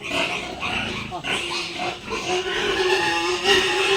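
A young female pig (gilt) that got out of its pen grunts repeatedly and close by on a farm, while a man calls out and talks over it.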